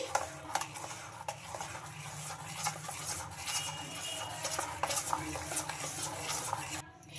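Healthy homemade cake batter is mixed in one direction in a bowl, producing a continuous soft scraping and swishing at a steady rhythm, close and fairly quiet over a low background hum.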